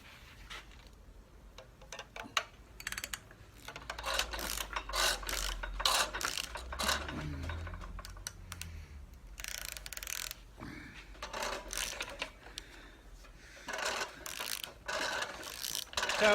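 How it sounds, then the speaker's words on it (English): A 3/4 drive ratchet and socket work a brake shoe spring bolt loose on a 1973 Foden S80 truck, giving repeated close clicking ratchet strokes in uneven bursts with occasional metallic clunks. "we're going to undo the bolt now for the spring. You do just need to raise the brake shoe slightly to get the socket in"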